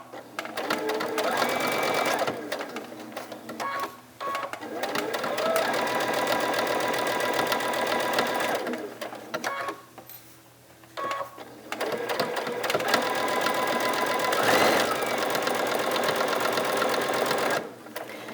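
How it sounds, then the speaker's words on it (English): Sewing machine stitching a quarter inch seam on a biscornu cushion, running in loud, steady rapid bursts that stop briefly between runs, close to the listener. "now I'm going to stitch a 1/4 inch seam all the way down to that next mark,"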